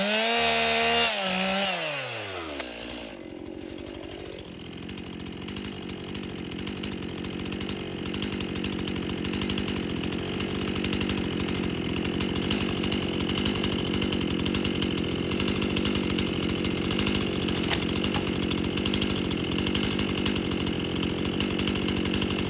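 A chainsaw cuts loose a tree hanging off a cliff, its engine revving up then settling into a steady, loud, continuous buzz of sawing through wood that runs unbroken with no talk.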